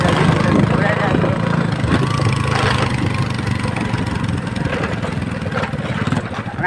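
Motorcycle engine running steadily while being ridden along a road, a continuous mid-low drone with wind rumble throughout, while someone talks over it.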